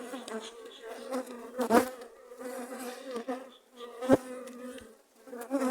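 Honeybees from a strong colony buzz around an open beehive, a steady close hum with individual bees droning past the microphone, no talking.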